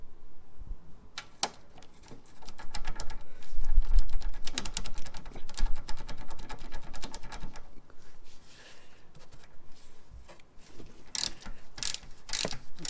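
A bolt is undone on the air suspension reservoir tank of a Land Rover Discovery 3/4, with rapid ratchet clicking in close bursts, some sharp metallic ticks and brief pauses.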